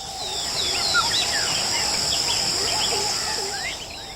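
Many birds call and sing at once in a Ugandan national park, with overlapping chirps and whistles over a steady insect or cricket drone, dense and continuous throughout, no voices.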